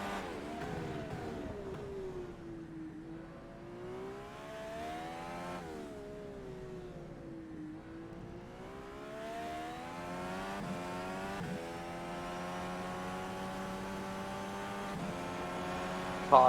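Formula-style Indy race car engine in the rFactor 2 sim at Indianapolis, whining steadily at high revs and rising and dipping through gear changes across the lap, loud and continuous with no talk over it.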